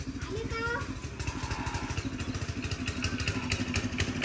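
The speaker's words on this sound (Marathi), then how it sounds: "मामा ट्रॅक्टरचा आवाज यायलाय." A chugging engine rumbles steadily throughout with a regular low throb, fairly close, like a tractor running, with faint voices and background noise.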